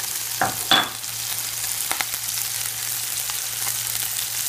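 Chopped onion sizzles in a hot pan for risotto-style rice, a steady close hiss with a couple of sharp clatters of a utensil early on.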